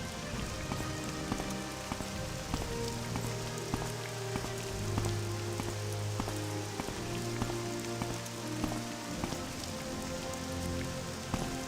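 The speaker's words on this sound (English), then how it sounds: "Doing all this in the rain." Steady rain falling in Morrowind run through OpenMW, a dense continuous patter of drops on surfaces with scattered sharper drips, alone and even throughout.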